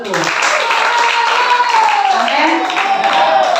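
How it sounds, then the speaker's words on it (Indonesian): A church congregation clapping their hands, a dense wash of steady claps under a voice and drawn-out sung or called tones throughout. "Tepuk tangan untuk Tuhan."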